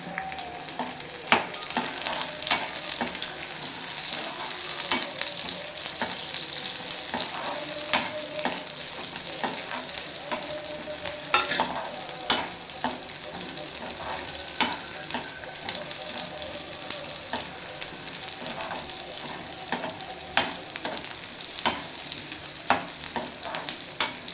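Peeled garlic cloves frying in hot tempering oil for a mutton intestine curry, a steady close sizzle with faint crackles and occasional stirring clinks, no voices.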